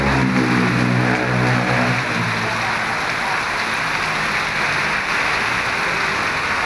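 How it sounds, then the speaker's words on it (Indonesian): Heavy rain pours down steadily in Yogyakarta, a loud, continuous hiss that fills the whole clip, with a low engine rumble underneath during the first couple of seconds. "Hujan masih melanda, deras sekali ya."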